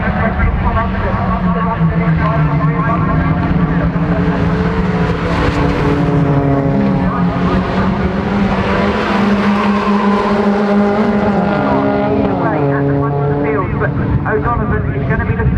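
Rallycross cars race down the back straight at Croft Circuit during British Rallycross Round 8; their engines hold a loud, continuous roar that rises and falls in pitch throughout, with a commentator talking over them.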